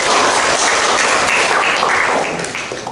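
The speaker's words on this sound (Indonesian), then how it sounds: "Boleh tepuk tangan." Classroom applause for a student group after their presentation at a high school, a steady wash of many hands clapping close and loud that tapers slightly toward the end.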